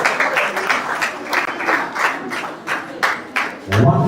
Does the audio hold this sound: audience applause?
yes